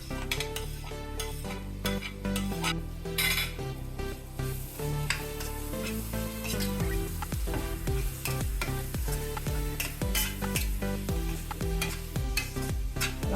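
Potato and onion masala being stirred in a frying pan, steady sizzling under repeated scraping and clinking of a spoon against the pan, close and continuous with no talk.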